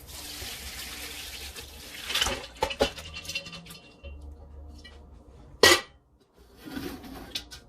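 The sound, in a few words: straining gumbo stock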